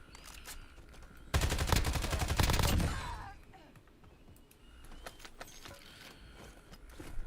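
Burst of rapid automatic gunfire in the video game Warzone, a dense loud volley lasting about a second and a half, followed by quieter scattered clicks and movement sounds.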